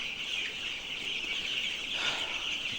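Around two thousand two-week-old colored chickens, averaging about 250 grams each, fill a littered shed with a continuous layered chorus of peeps and clucks. The sound is moderately loud and unbroken, and no voices are heard.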